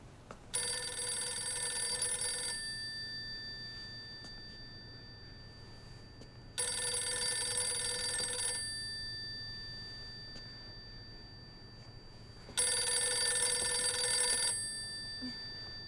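A telephone rings in the horror video game Silent Hill f, three long bright electronic bursts separated by pauses of about four seconds, clear and alone over a low ambient hum.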